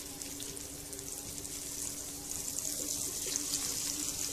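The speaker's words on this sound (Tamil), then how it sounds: "எண்ணெய் சுட்டுடுச்சு, மீன் போட்டுடலாம்." Fish frying in hot oil in a pan over a medium flame, a steady close sizzle and crackle that holds throughout with no talking.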